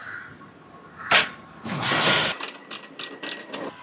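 A ratchet wrench loosens a 12 mm bolt on a Hero Honda CD100 motorcycle, giving a sharp clank, a longer grinding turn, then a quick series of close ratcheting clicks.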